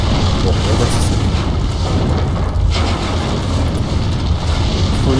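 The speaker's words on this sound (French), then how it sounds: "Attention, une pluie de météorites." Meteor shower impacts in the video game Treasure Planet: Battle at Procyon rumble as continuous heavy booms and low explosions, loud and dense throughout.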